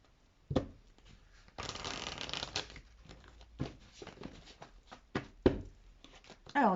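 A deck of oracle cards is shuffled and cut by hand, with a long riffling rustle, sharp slaps and taps of cards, close and crisp against a quiet room.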